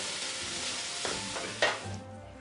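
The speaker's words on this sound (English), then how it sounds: "we're actually gonna caramelize the shallots" Shallots caramelizing in a pan, a faint continuous sizzle with a few light scraping stirs and a small clink, fading quieter toward the end.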